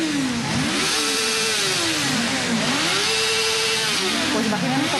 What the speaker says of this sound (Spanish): vamos a hacer rugir las motos para que nos puedan escuchar